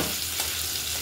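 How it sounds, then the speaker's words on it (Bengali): Pointed gourd and shrimp fry in hot oil in a pan, giving a steady, close, broadband sizzle that holds at an even level for the whole second with no voices. "মোটামুটি একটু ভেজে নেব, এই যে এভাবে।"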